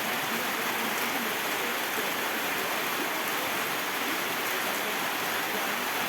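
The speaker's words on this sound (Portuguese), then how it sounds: "Tá chovendo." Steady rain falls outdoors as a dense, even hiss of drops, constant and unbroken from start to finish, with no voices.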